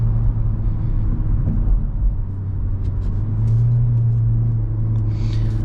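A 2024 Hyundai Elantra accelerating, heard as a steady low engine and road rumble from inside the cabin, loud and continuous with a faint whir and no talking.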